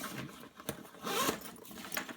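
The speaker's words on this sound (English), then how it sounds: "Go ahead and zip this back up though." The zipper on a Tom Bihn Western Flyer briefcase is drawn closed in a few quiet, rasping pulls with short pauses between them, heard up close.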